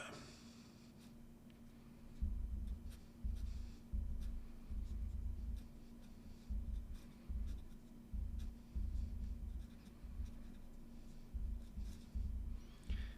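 A fountain pen with a stub nib scratches across paper in short bursts of strokes with brief pauses between them, quiet and close, with no voices.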